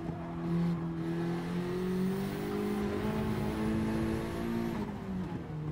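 A Honda Integra in Gran Turismo 7 accelerating at full throttle on the Nordschleife, a steady engine drone with rising and shifting harmonics and a brief gear change, heard alone at moderate level.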